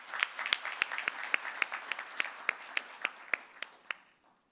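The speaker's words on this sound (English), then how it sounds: "Ladies and gentlemen, please give him a warm round of applause." A forum audience gives a round of applause welcoming the Ukrainian ambassador to the Republic of Korea, heard as sparse, distinct handclaps in an irregular rhythm that taper off and stop.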